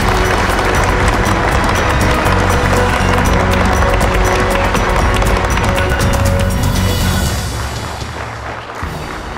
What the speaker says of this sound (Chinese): 那现在让我们用热烈的掌声欢迎方大华先生。